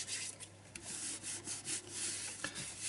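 Paper glued into a handmade circular art journal is rubbed down by hand, giving soft, close, continuous scuffing strokes with a few brief rasps, quiet and alone.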